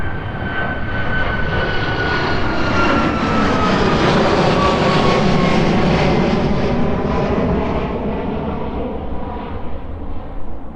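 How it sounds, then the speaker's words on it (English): A loud, close jet airliner roars steadily as it takes off from East Midlands Airport, with a broad engine rumble and a high whine that swell and then slowly ease away. "The aircraft literally disappearing into the sun there, then straight out in front of us."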